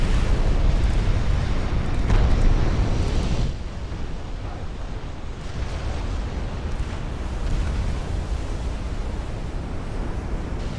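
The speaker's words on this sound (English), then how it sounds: "Everybody wants to watch cook-off, so let's watch my battleship cook-off." Battleship ammunition cooking off in the naval warfare game Ultimate Admiral: Dreadnoughts: a continuous loud, rumbling roar that swells for the first few seconds, then settles into a steadier, slightly quieter churning din, with no voices.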